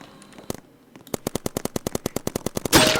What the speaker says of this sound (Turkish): Bir baktım gidiyor sırtından vurdum onu dostum